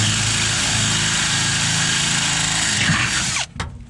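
A power drill bores a hole through a pickup truck bed while installing a fuel transfer tank, a loud, steady whining motor under load that cuts off abruptly near the end with a brief final burst.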